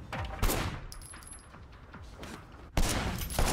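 Gunfire from the action video game Sleeping Dogs comes in a loud burst of rapid shots, followed by quieter game sounds and then a second sharp volley near the end, with no talking.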